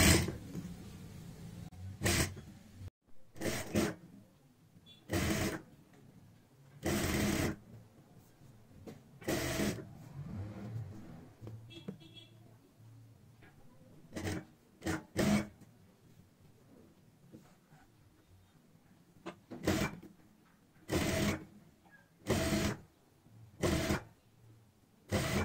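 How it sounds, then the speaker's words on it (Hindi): Sewing machine stitching a strip onto a sleeve with a narrow presser-foot-width seam, running in short repeated bursts of whirring with quiet pauses between them, close by. "ऐसे हम यहाँ पे एक पैर चौड़ाई वाली सिलाई लगाएंगे।"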